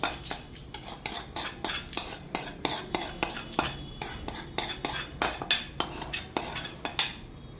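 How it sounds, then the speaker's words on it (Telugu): A spoon stirring a tempering into tomato yogurt chutney in a bowl, making close, rhythmic scraping clinks about two per second, steady and unbroken. "ఇప్పుడు దీన్ని శుభ్రంగా అన్నీ కలిసేటట్టు కలుపుకుందాం."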